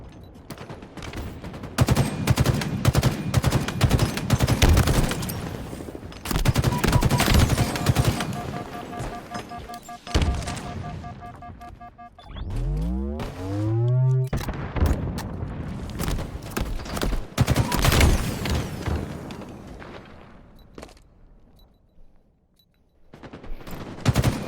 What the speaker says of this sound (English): Shoot your gun, Beef Snack.